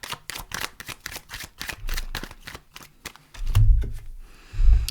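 A deck of tarot cards is shuffled close up, rapid riffling snaps and soft slaps repeating in quick bursts, then two heavier thumps as the cards are squared or set down.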